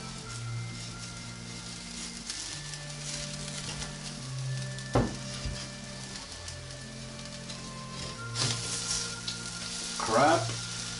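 Oatmeal pancakes sizzle steadily in a cast iron frying pan, a continuous close frying hiss with a few sharper crackles and spatters throughout.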